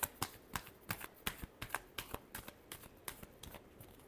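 Tarot cards being shuffled in a series of quick crisp riffles and flicks, a dozen or so soft snaps in an even rhythm, close and quiet.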